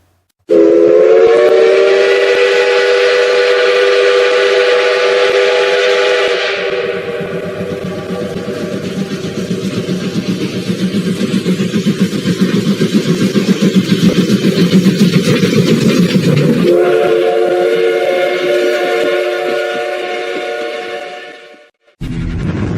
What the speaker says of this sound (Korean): 천국 복음 열차가 이 열차의 종착역인 천국을 향해서 힘차게 출발하겠습니다